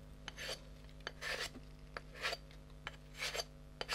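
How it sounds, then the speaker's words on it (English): Paint being scraped off a coaster, a dry rasping scrape repeated in short bursts of about half a second, roughly five strokes at close range with a steady low hum behind them. "So I'm going to scrape that off."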